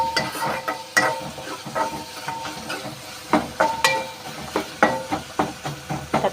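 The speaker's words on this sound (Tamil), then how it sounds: "தக்காளிலாம் நல்லா நசுக்கி விட்டுக்கோங்க." Tomatoes get mashed in a pan for drumstick leaf soup, a run of close, irregular squishing and scraping strokes with soft sizzling between them.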